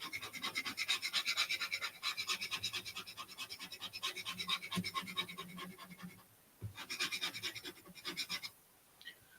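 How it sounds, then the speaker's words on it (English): Bone folder rubbed rapidly back and forth over paper in a scrapbooking session, a close, dry rhythmic scratching in two bursts separated by a short pause. "Lining it up, I'm going to go ahead and burnish it real quick."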